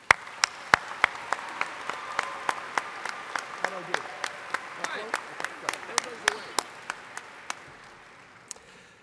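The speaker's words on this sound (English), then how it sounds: "Please join me in applauding these special guests." Audience at an engineering school commencement ceremony applauding special guests, a soft sustained patter of clapping in a large hall with sharp, evenly spaced clicks layered over it.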